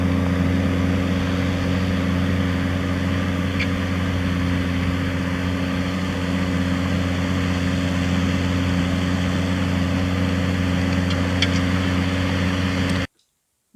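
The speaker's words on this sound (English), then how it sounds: "when the tractor drives, it pulls the plough along" Tractor engine running steadily while pulling a plough through a field, a constant low droning hum at even loudness throughout with no talk, cutting off abruptly at the end.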